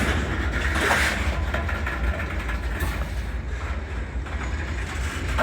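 A BNSF freight train that had sat idle for hours begins moving, its low engine rumble and mechanical grinding steady and fairly loud throughout, with faint rain-like hiss over it.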